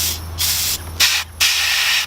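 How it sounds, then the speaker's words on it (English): Compressed air from a small compressor hissing in loud bursts during a car vacuum leak test, several close, steady blasts separated by short gaps over a low hum. "All right, so we got our little compressor all juiced up."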